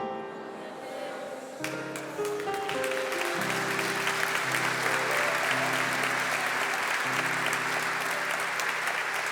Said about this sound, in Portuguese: Esse aplauso é para Jesus